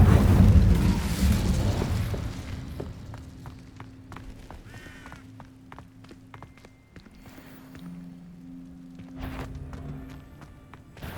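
Incendio fire spell cast in Hogwarts Legacy, a heavy burst of fiery whoosh at the start that fades into lighter scattered game effects and clicks.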